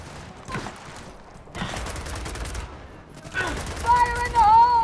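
Gunfire bursts in the video game Gears of War 4, with sharp, close automatic fusillades in clusters, mixed with in-game voices and a rising tonal whine toward the end.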